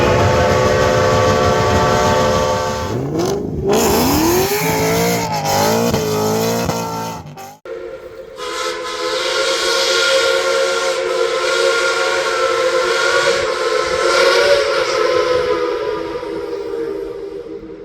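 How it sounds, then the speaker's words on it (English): Shay steam locomotives at the Cass Scenic Railroad in West Virginia blow loud, sustained steam whistles, one sliding in pitch, over the heavy chuffing and rumble of the engines, close and continuous with no talking. "So we're going to take a look at some of these beautiful shay locomotives"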